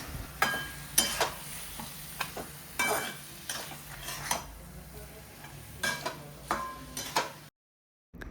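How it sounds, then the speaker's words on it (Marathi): Fish is turned and mixed through spice masala in a cooking pot, with a string of close scrapes, clicks and utensil taps over a low sizzle before it cuts to silence. "आता आपण माशाला चांगलं एकत्र करून घेऊया"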